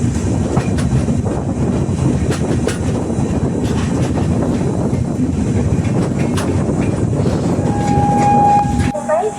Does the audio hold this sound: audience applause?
no